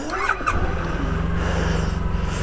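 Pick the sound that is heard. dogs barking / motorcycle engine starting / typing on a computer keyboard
motorcycle engine starting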